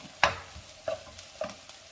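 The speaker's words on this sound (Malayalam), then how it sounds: "ഈ എണ്ണയിൽ പാവയ്ക്കായും ഉള്ളിയും ക്യാരറ്റും ഒക്കെ ഒന്ന് വഴന്ന് വന്നിട്ടുണ്ട്" Bitter gourd, onion and carrot sautéing in oil, a low quiet sizzle broken by three sharp stirring scrapes and taps of a spoon against the pan, close by with no talking.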